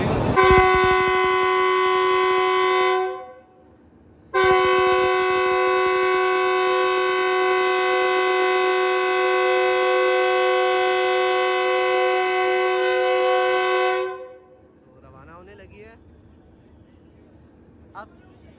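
Long, loud multi-tone horn of the Thar Desert Safari special train as it departs on its inaugural run, sounding once for about three seconds, then again for about ten seconds before fading into quieter ambient noise.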